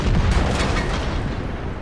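A Tiger II tank's cannon fires in a tier 8 World of Tanks clan battle on the Highway map, a single loud, close boom that rolls into a heavy rumbling decay.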